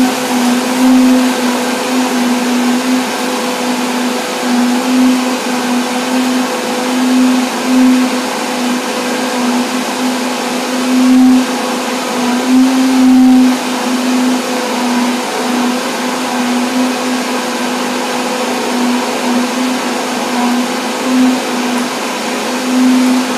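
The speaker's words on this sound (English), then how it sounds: "There are even blenders that have an item inside" A blender runs while making salted pumpkin seed milk, a loud, steady motor roar with a constant hum that continues without a break for over twenty seconds, with no voices.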